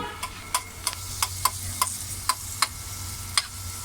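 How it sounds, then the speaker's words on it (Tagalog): Milkfish fries in a pan with sautéed onion and garlic while a utensil stirs it, giving a faint sizzle under about ten sharp, regular scraping clicks. "Pag mapula na yan, saka naman ilalagay yung isda. At syempre, halu-haluin dapat para hindi masunog."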